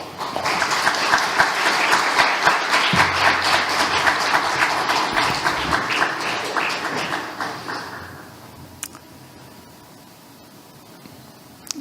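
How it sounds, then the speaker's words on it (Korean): At a church mission gathering, the audience gives dense, loud applause to welcome a missionary speaker, sustained for about eight seconds before fading to a quiet room with a few faint knocks. "나오실 때 큰 박수로 환영해 주시기 바랍니다"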